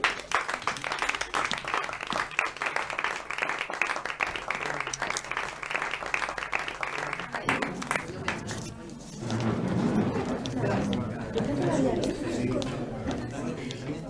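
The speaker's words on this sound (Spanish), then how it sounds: "Un aplauso para la cocinera" A crowd claps and applauds loudly for several seconds, then voices and chatter take over as the clapping fades.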